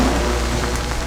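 Storm Dragon spell from the Jade Empire video game: a steady, dense hiss of rain-like storm noise with a low rumble underneath, loud and continuous, no voices.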